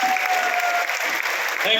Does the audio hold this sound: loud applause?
yes